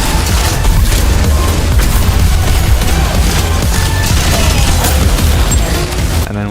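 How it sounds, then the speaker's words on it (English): Grenades bursting in a roguelite shooter game, a continuous barrage of loud booms and gunfire-like blasts layered densely over chaotic combat noise. "we have grenades to throw. So I'm tossing a couple of those around"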